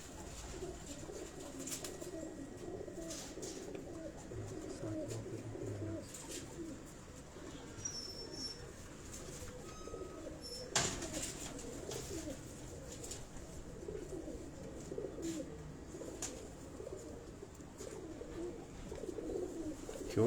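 Breeder pigeons cooing in a loft: soft, low repeated coos with occasional chirps and wing rustles, moderately close under a steady background murmur.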